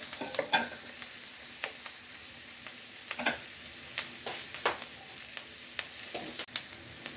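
Minced onions and sliced green onions sauté in melted butter for chicken sisig, a soft continuous sizzle dotted with crisp pops and clicks of stirring, close and without voices.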